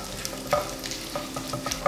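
Coconut pieces fry in a pan for jackfruit seed payasam: a continuous close sizzle broken by scattered clicks and knocks of a stirring spoon.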